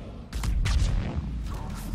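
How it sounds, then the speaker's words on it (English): A biotic explosion goes off in Mass Effect 3 multiplayer combat as a pair of heavy, booming bursts with a deep low rumble, the second one stronger, followed by a sustained loud roar of game noise. "And biotic explosion."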